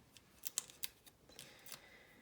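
Adhesive backing is peeled off a paper gift card in a few short, quiet crackling rips, close up and faint.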